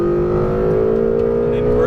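A Ferrari 488 GTB engine drones steadily under throttle on the Las Vegas Motor Speedway track, loud and close, with a smooth rising tone and no break.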